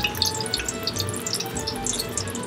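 Chicken fried steak laid into hot oil in a pan sizzles and crackles steadily at close range, a dense, bright frying hiss with scattered pops and no talking.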